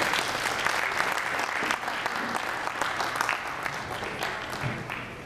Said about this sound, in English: Round of applause for George.